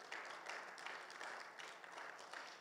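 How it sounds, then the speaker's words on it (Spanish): A church congregation at a Bible seminary class claps in a soft, fairly distant round of applause with steady, slightly pulsing rhythm. "Denle un fuerte aplauso al Señor, por favor."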